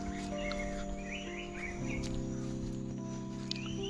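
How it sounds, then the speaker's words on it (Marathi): Several small birds chirp and twitter at a moderate distance in a Sahyadri forest by a temple, over a steady low hum, short calls repeating irregularly. "पक्ष्यांचा किलबिराड आपल्याला ऐकू येत आहे"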